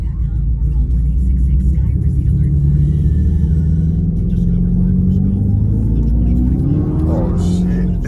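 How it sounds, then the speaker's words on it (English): A gas-powered vehicle engine rumbles loudly and steadily throughout, with a rising pitch near the end as it revs. "It sounds like a gas-powered vehicle."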